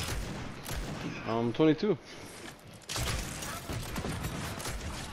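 Fortnite gunfire crackles in rapid bursts from the game, with a loud spell early on, then steady scattered shots under excited talk from players.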